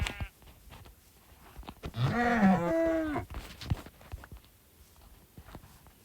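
A single cow moo from Minecraft gameplay, one drawn-out tonal call lasting about a second, clear and fairly close, surrounded by quiet game ambience and small clicks.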